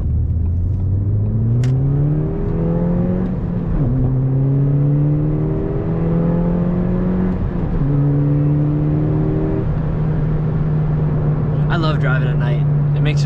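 A 200-horsepower Ford Fiesta ST engine pulls hard through rising revs, easing off and climbing again in steady surges, loud and close from inside the car, with a brief clatter near the end.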